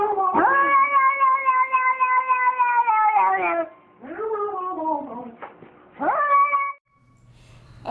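A cat in a played video lets out a long, loud, drawn-out distressed meow, then two shorter wavering cries, close and clear with no talk over it.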